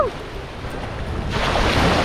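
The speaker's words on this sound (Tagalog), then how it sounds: "lakas ng alon" Strong ocean waves surge and wash against the rocky shore of Fortune Island in Nasugbu, Batangas, a close, rushing roar that builds louder toward the end, with wind buffeting the microphone.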